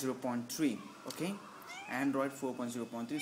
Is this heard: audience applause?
no